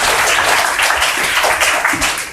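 A quiz show audience applauds a young contestant, with brief, dense clapping that stays loud and close throughout.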